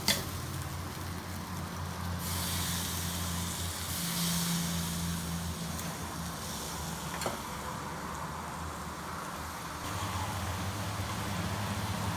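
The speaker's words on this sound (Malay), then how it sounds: "Kita boleh renjiskan air." Steady hiss and crackle of water sprinkled into a hot pan of Chettinad prawns, with brief louder bursts and a low hum underneath; no talking.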